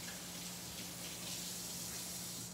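Ginger rinsed under a running kitchen tap, a steady soft hiss of flowing water that carries on unbroken, quiet and alone.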